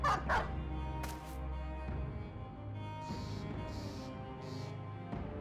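A war dog in the Battle Brothers video game barks and yips, two sharp barks up front followed by whimpering, whining tones and a few more short yelps over a low game soundtrack.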